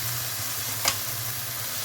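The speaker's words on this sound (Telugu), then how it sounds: "మూత ఓపెన్ చేసి మధ్య మధ్య ఇలా కదుపుతూ ఉండాలి, అడుగు మాడకుండా." Dry prawn and ivy gourd fry sizzles steadily in a pan, with one brief scrape of stirring partway through; low hum underneath, no voices.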